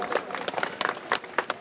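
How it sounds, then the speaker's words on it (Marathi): A crowd at a Chembur election rally claps together, a short burst of sharp, uneven hand claps close by, busy and lively for under two seconds. "एकदा टाळ्या या चेंबूरच्या मायबाप जनतेसाठी झाल्या पाहिजे"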